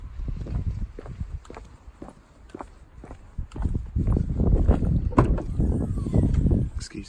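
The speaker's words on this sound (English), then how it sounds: "Excuse the wind noise here" Gusty wind buffets a microphone in low rumbling bursts, with soft thumps and faint rustling throughout; no one speaks.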